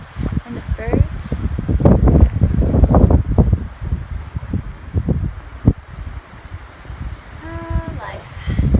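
Gusty wind roars and buffets the microphone while a person talks over it; a few bird chirps come through near the end.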